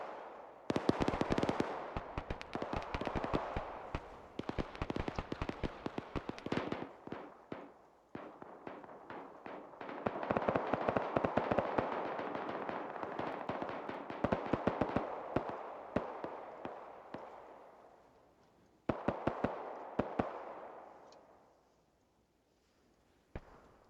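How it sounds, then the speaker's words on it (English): Mortar fire in the military shooter ArmA 3, with repeated sharp booming impacts and crackling bursts in clusters, fading into decaying rumbles between volleys, moderately distant. "Havoc 4 is hitting them with mortars at this time."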